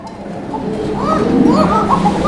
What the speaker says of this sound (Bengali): দুইটা কবুতরই ডাকবে দেখেন ডাকতেছে অলরেডি